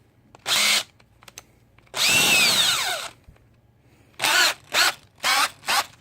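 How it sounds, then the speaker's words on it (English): Several short bursts from a power drill working on GY6 scooter handlebar controls, one longer whine with a rising pitch, then four quick separate pulses, all close and loud with quiet gaps between. "Put your drill bit in."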